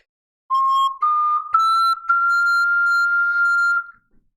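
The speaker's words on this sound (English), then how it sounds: "the high C on a ocarina peaks my microphone." A single ocarina held on a piercing high C, overloading the microphone with a few brief breaks and re-attacks before a long steady note that cuts off cleanly; loud and close, no talking.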